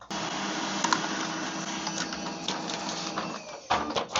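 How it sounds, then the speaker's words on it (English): A Samsung Xpress M2070W laser printer runs a print job, giving a steady mechanical whir with paper-feed rattles and a sharper clack near the end, close and continuous with no talk. "just tap on print and let the printer to do its job"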